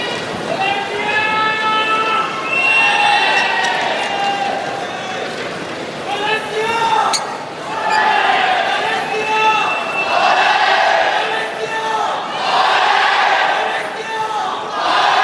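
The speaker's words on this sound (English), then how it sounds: "the crowd really are warming up for this, no question of that" A packed, sold-out arena crowd at the 2009 All England badminton semi-final between Taufik Hidayat and Lee Chong Wei, loud sustained cheering and shouting that swells in waves, with rising chants and whistles, close and dense under commentary.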